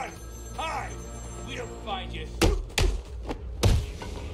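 In Batman Arkham City, a phone rings with repeated warbling trills early on, followed by several heavy thumps, while a voice talks over parts of it.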